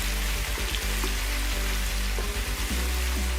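Onions frying in hot cooking oil for a fish stew, a steady close crackling sizzle that runs without pause and without speech.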